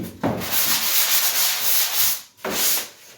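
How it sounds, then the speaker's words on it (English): Sandpaper rubbed over drywall joint compound in an inside three-way corner, two bursts of brisk, close scratchy sanding with a short pause between strokes. "Now when you're sanding out the 3-way here, because it's just a quick brush, you don't have to go deep into the angle."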